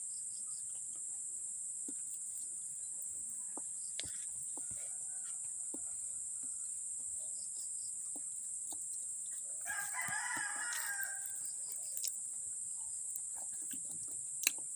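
A rooster crows once in the countryside, mid-distance, over a constant high drone of crickets and insects, with a few faint clucks and ticks around it.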